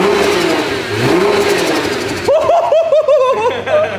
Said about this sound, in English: Those blow valves sound sick.